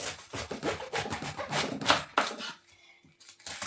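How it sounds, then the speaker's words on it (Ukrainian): A knife slicing young cabbage into thick rounds: rhythmic crisp crunching and rubbing strokes, close and moderately loud, repeated in a steady series before a pause and one final cut. "Зараз будемо ріж, різати ж гарно нашу молоду капусту на шайби."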